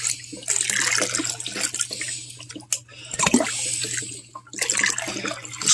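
Water is poured and dumped into a tank in several splashing, gurgling pours, close by, with brief pauses and sloshing between them.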